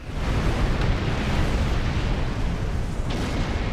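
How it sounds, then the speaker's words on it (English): Fireworks go off outside in a dense, continuous barrage, heard as loud, rumbling booms and crackles that blend into one sustained roar with no pause and no talking. "Oh my god, those fireworks!"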